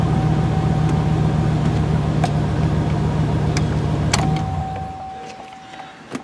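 Electric motors in a car run with a steady whirring hum under a faint constant whine, with a few small clicks, before the motor sound winds down and stops near the end.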